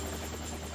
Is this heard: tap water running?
no